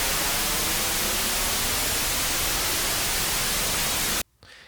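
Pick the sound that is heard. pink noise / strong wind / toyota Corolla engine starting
pink noise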